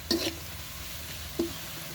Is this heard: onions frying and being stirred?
yes